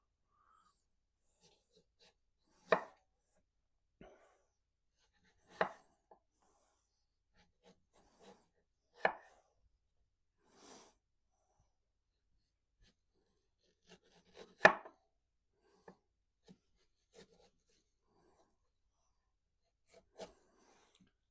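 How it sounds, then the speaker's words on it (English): A knife cuts through a mango against the hard stone, making sparse, sharp slicing strokes, about five distinct cuts a few seconds apart with faint small knocks between them, in a quiet kitchen without talking. "I'm going to get another partial slice."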